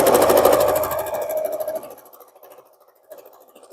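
A sewing machine stitching quilt block seams, a loud, rapid mechanical whirring buzz close up for about two seconds that then stops, followed by quieter handling noises and a brief click.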